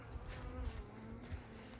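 Honeybees drone steadily around a frame of honey being handled at an open hive, a dense close buzz that swells and dips without pause.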